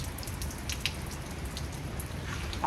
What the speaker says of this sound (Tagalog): kaya lang umuulan na naman